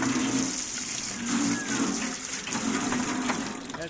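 Water gushes steadily under good pressure from a gravity-fed tank set about 7 metres above a house, a constant hissing rush filling the scene at moderate volume.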